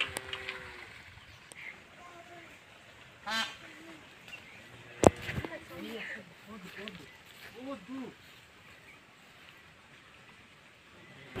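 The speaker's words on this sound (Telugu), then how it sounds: "ఇందాక అర్చన సౌండ్ నెమలిది నెమలి ఉంది అక్కడ" A peacock in a village setting gives several loud, honking calls at intervals, spread over ongoing conversation and some background noise.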